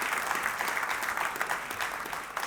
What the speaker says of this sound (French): que ceux qui le croient applaudissent bien fort le roi des rois